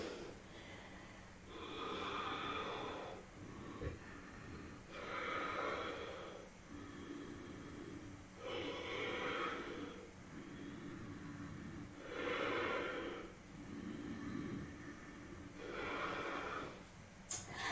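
Deep, slow yoga breathing is held in a forward fold, with five or six long, audible inhale-exhale cycles spaced a few seconds apart. The breaths are close and soft, with no talking.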